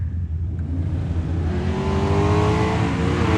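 A drag racing car launching off the starting line at a summer event, its engine roaring loud and close with a steady rising whine as it accelerates away, no talking.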